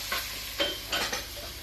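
A capon browning in a pan gives a steady loud sizzle with faint hissing, broken by several soft scraping bursts as it is moved about, and no talking.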